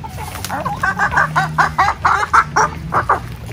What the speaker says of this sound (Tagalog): Hindi na kasi namimili din yung ating mga alagang manok na nandito.